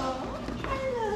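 A cat meows briefly up close during an animal encounter on Isla Mujeres, a short tonal call lasting about a second with faint background chatter.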